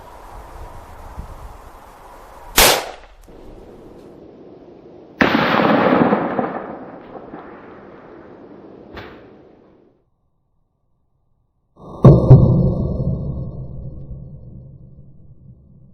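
A 7.62x39 Hornady Black rifle round fired into a bag of flour makes sharp, loud outdoor cracks. Several separate shots ring out with gaps between them, each trailing off in a rumbling echo.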